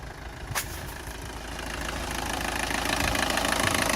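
An old car engine idles just after a cold start, a rough, steady mid-pitched running sound with a faint knock, growing slightly louder over a few seconds after a brief click near the start, with no talking.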